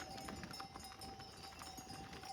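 Mules and horses walk along a village path in the hills, their hooves clip-clopping in a steady, quick rhythm at moderate distance over a continuous background hiss.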